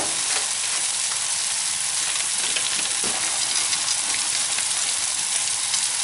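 Pine nuts and sliced courgettes frying together in a hot pan give a steady, dense sizzle and crackle that runs unbroken throughout, close and fairly loud, with no voices.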